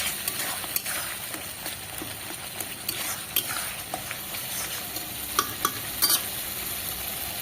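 Spice masala for ghugni fries in a pan, a continuous sizzle broken by frequent scraping and clicking as a spoon works it around the base, near and without talk.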